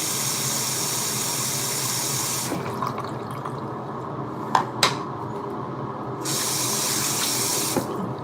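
Water from a tap running into a hairbrush at a sink, a steady rushing stream that stops briefly midway with a couple of sharp knocks before flowing again.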